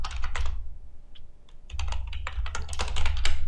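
Fingers type a MySQL command on a computer keyboard and finish with the Enter key: close, crisp bursts of key clicks with a short lull in the middle.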